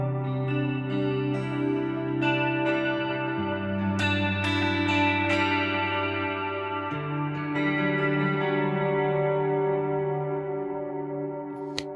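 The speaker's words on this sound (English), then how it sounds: "on snapshot number 5, I have a chorus. Sounds like this." Electric guitar through a chorus effect on a Helix Stadium patch at snapshot 5, shimmering strummed and picked chords ringing out with a wavering, doubled sheen, played alone and steady.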